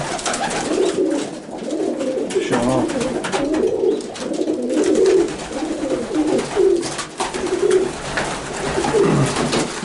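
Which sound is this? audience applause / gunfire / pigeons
pigeons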